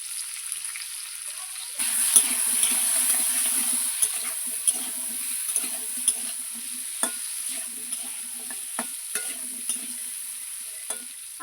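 Potatoes seasoned with salt and turmeric fry in hot oil, a bright steady sizzle that starts abruptly after a short quiet moment, with soft spatula stirs and scrapes ticking through it close by.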